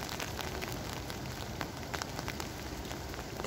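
Quiet, steady rain after a long dry spell falls soft and even, a gentle continuous patter with scattered faint drops and no talk.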